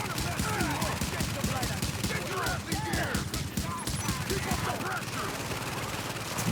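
Gunfire in a video game, a dense, continuous stream of rapid shots and bursts at steady loudness throughout, with a voice talking underneath.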